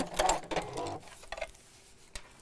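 Sewing machine stitching through fabric, a quick burst of rapid mechanical needle chatter that slows and fades, with a sharp click near the end.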